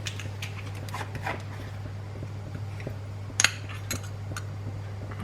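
A spoon scoops ground cinnamon from a small spice jar, giving faint scattered clinks and scrapes of metal against glass, one brighter knock midway, over a low steady hum and no talking.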